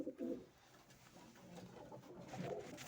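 Soft, low cooing of a domestic sport pigeon, a few rounded coos close by against a quiet background.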